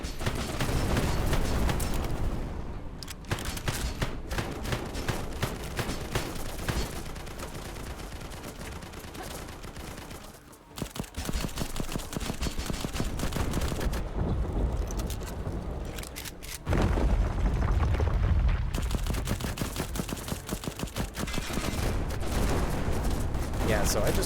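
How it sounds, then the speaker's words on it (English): A cannon barrage in a video game boss fight brings dense, continuous booms and blasts that stay loud throughout, with a voice talking over the explosions. "I just had to survive this cannon barrage without any help"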